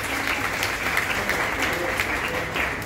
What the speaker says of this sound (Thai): ปรบมือสักครั้งได้ไหมนะ